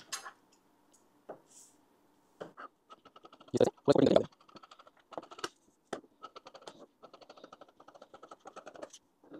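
Scissors snipping through blouse fabric during tailoring, a series of short, crisp clicks and scratchy cuts, some clustered together, with a person talking at times.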